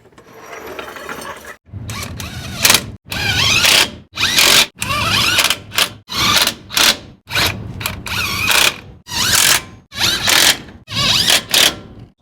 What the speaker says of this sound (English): I tightened up all the bolts on the pumpkin